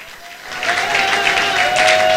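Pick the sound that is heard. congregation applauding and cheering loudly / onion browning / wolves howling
congregation applauding and cheering loudly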